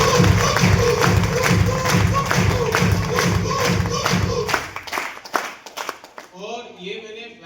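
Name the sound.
audience applause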